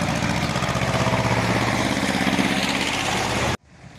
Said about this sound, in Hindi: ये कुबोटा का मिनी ट्रैक्टर है A211N